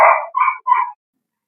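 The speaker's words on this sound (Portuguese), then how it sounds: "meus cachorros." Dogs give three short, sharp barks in quick succession, close and loud, followed by silence.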